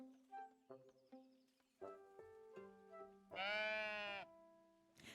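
Game sheep bleating in a series of wavering, nasal calls, several short bleats followed by one long loud quavering cry near the end, heard clearly and alone with quiet gaps between.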